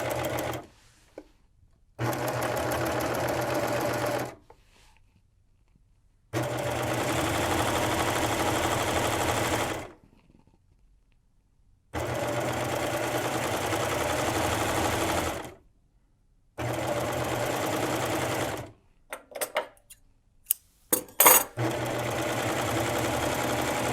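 Sewing machine with an elastic foot sewing elastic onto swimwear: steady close motor hum in long runs of several seconds, broken by silent pauses and a few handling clicks near the end.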